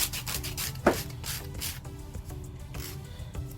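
A Dollar Tree Christmas ornament is hand-sanded in quick back-and-forth rubbing strokes, a close, rhythmic scratchy rasp repeating steadily throughout.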